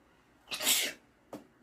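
A single close sneeze, a sudden breathy burst, followed by a brief sniff or exhale.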